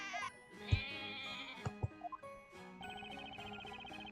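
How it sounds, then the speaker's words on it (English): A video-game sheep bleats when squeezed: wavering cries mixed with chiming jingles and a few sharp knocks, ending in a long, steady electronic bleat. "Stop squeezing your goddamn sheep!"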